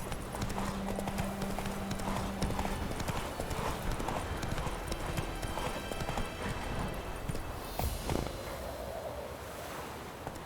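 Horse hooves clip-clopping at a steady gallop in The Witcher 3 video game, continuous and close over a wash of wind and surf-like ambience, with a brief whinny.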